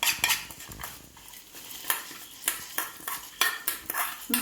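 Kitchen utensils clink and clatter as ingredients for a Mangalore-style clam curry (marvai sukka) are put into a mixer jar, with repeated sharp metallic taps and scrapes at close range and no talking.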